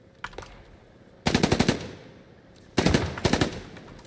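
Automatic gunfire in the World War II shooter game Post Scriptum: three sharp bursts of rapid shots, the first faint and brief, the next two loud and close with fast rhythmic cracks.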